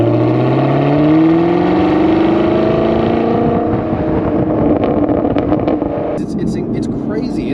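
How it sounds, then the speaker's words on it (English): A Chevrolet Camaro 1LE engine revs hard at full throttle, its pitch climbing loudly before easing off, with the roar continuing and a voice joining toward the end. "you only get good sound when you're full throttle."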